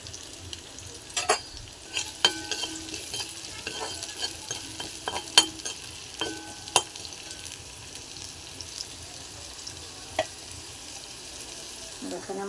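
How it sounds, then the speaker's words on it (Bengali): Onions frying in oil in a wok, a continuous sizzle with frequent clicks and scrapes of stirring scattered across the whole stretch. "কড়াইয়ে দিয়ে দিয়েছি তেল, দিয়ে দিলাম পেঁয়াজ"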